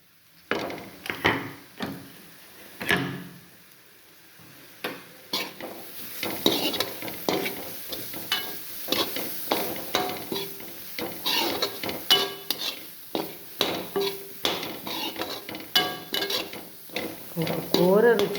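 Grated coconut is stirred and fried in a pan with ground coriander, carrot and beetroot, a metal spoon scraping and clinking steadily against the pan in quick repeated strokes over a soft continuous sizzle.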